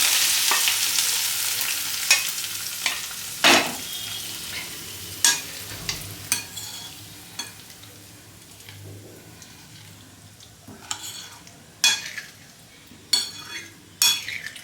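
A hot tempering (tarka) poured into a Chinese-style potato ball dish sizzles loudly at first and then fades, with repeated sharp clinks of a spoon stirring against the pan.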